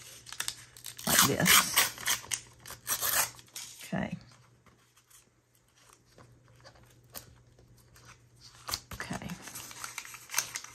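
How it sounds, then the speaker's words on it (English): Paper is torn along a ruler in a couple of rough, scratchy rips followed by a quieter stretch and a final tear, with a person speaking briefly. "I'm going to just put this here and tear it"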